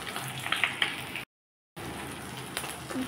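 Pieces of fish fry in hot oil, their second side down, for a light fish curry. A steady, soft crackling hiss breaks off briefly midway and then resumes unchanged.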